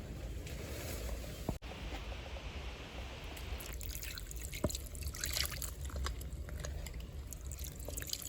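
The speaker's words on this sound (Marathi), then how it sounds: "तर याच्यावरती आता थोडंसं पाणी घालायचं आहे" Water poured from above onto potting soil covering freshly planted red grape seeds, a continuous soft trickle and splash that stays steady and close throughout, with faint drips at the end.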